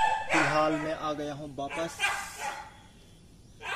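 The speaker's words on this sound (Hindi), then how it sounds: "कुत्ता बहुत चिल्ला रहा है।" A dog barks and yelps close by in Kushinagar, Uttar Pradesh, India, with a short burst of loud, tonal barks early on. Someone talks over and after the barking.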